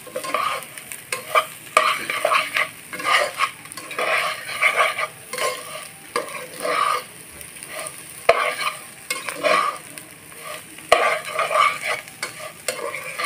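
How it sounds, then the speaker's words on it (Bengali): Potato murighonto with spices is sautéed and stirred in a pan, giving loud repeated scraping strokes in an uneven rhythm over a continuous sizzle, with an occasional metallic knock. "সব মশলা দিয়ে এই আলুর মুড়ি ঘন্টটা আমি ভালোভাবে কষিয়ে নিই"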